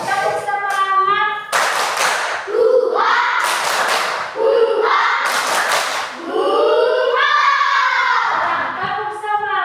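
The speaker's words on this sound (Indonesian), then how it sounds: "Ayo, 1, 2, 3, tepuk semangat." Fifth-grade children in a classroom chant together while clapping in a rhythmic 'tepuk semangat' pattern, with bursts of group clapping breaking up the sung call between them.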